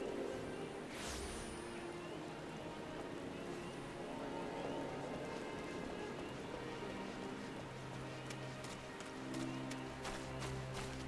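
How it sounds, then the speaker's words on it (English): Rain falls in the video game Final Fantasy XIV as a soft, constant hiss, heard faintly alongside the steady patter of a character running through wet ground. "Oh, it's raining."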